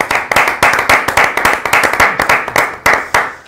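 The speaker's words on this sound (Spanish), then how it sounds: "Ven los hermanos cómo aplauden la salida de Jesús" Brotherhood members of Jerez's Hermandad del Nazareno applaud on Good Friday morning of Holy Week as the procession leaves, a close, brisk run of sharp, irregular hand claps from a small group.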